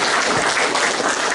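Church congregation applauding during a sermon, a dense, steady wash of clapping that fills the short moment without any talk over it.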